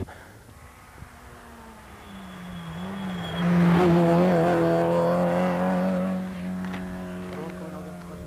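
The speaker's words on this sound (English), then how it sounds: "just really zoomy it along, Barry Duggan from Millstreet in his Ford Escort" A Ford Escort rally car on a stage near Millstreet, its engine note rising as it approaches, swelling loud as it passes close by, then fading away, with a commentator talking over it throughout.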